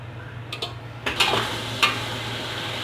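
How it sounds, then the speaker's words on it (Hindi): Garlic-ginger paste frying in a pan for Afghani biryani sizzles steadily up close, broken by several sharp scrapes and clinks of a spoon stirring against the pan. "अब हम इसमें लहसुन अदरक का पेस्ट डालेंगे, इसको अच्छी तरह भूनेंगे।"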